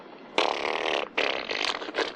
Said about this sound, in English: it was just a very bassy, you know, one of those sort of wet, moist... ass-ripping farts